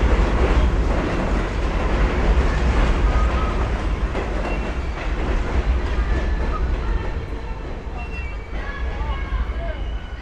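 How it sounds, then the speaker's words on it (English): A subway train on New Utrecht Avenue in Brooklyn rumbles into the 9th Avenue station across the street, a steady loud roar with clattering wheels and faint squeals, street noise around it. "You just heard a train going down into the 9th Avenue station on the other side of me"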